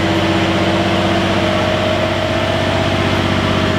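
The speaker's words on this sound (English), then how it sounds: "I'll go up there and start the car and cycle through the gears, get it up to 2000 RPM" A BMW 335d diesel engine runs steadily just after starting, a loud, close idle with a constant low drone and an even tonal hum.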